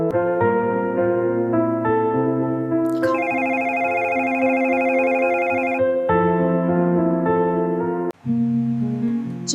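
A telephone ringtone plays loud and steady, a repeating electronic melody that shifts pitch between phrases and briefly cuts out near the end, with no talking.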